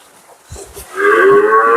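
Cattle on a flood-hit farm low out in the rain, a long, loud, sustained moo rising after a few brief low thuds, close by and with no talk over it.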